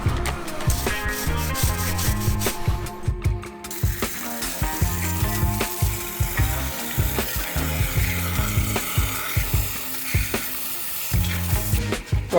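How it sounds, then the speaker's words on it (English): Gasket faces on a BMW M44B19 engine from an E36 Compact 318ti being scraped and cleaned, a steady rasping rub with rhythmic scraping strokes, close and fairly loud over a low background hum, no talking. "While he's cleaning out the gasket faces"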